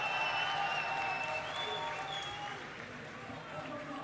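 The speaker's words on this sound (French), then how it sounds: "on les applaudit bien fort" Steady applause from a crowd at an esports final at Paris Games Week 2013 fills the scene, with voices mixed in underneath, easing slightly toward the end.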